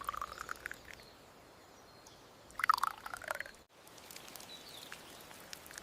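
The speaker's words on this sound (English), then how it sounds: "The first golden layer is carefully poured into the miniature molds." A golden kulfi layer, made with crushed pistachios, is poured into miniature molds with soft, faint liquid trickles and small drips, briefly louder midway, in a quiet close setting.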